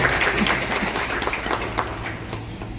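An indoor audience applauding an inspecting officer at a gathering, a steady wash of many hands clapping close by that holds its level throughout.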